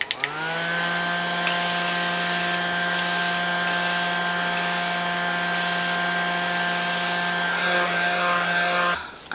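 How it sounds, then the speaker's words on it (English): Morphe setting spray misted onto a made-up face, a steady close hiss lasting several seconds with a faint underlying tone, ending abruptly, with no talking. "Let's use this Morphe spray."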